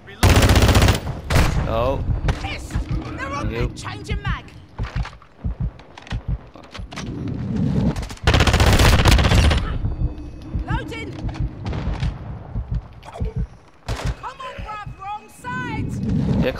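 Dense, rapid automatic gunfire bursts and explosions from a Modern Warfare 2 multiplayer match, loud and close, broken by brief pauses, with someone talking and exclaiming over the firing.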